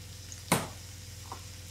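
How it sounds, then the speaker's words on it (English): Rib-eye steaks returned to a hot pan with kecap manis sauce give one sharp sizzling burst as they hit, then a faint steady fry and a small second crackle. "we're just going to put them back in the pan, along with our sauce, the kecap anise"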